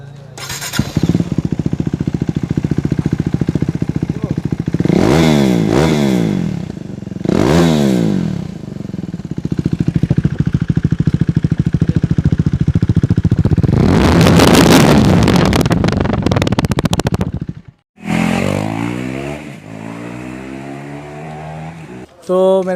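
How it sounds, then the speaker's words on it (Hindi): KTM Duke 390 motorcycle with the exhaust baffle (dB killer) removed, idling loudly up close with several sharp throttle blips and revs that fall back to a rumbling idle, ending with a brief cut before restarting. "हम लोग अपना साइलेंसर का जो बैफेल था वो हम लोग ने रिमूव कर लिया बाहर।"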